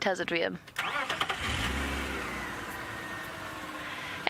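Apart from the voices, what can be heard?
car engine starting and revving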